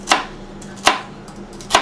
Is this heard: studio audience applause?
no